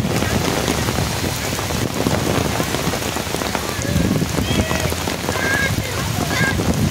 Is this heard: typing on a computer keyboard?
no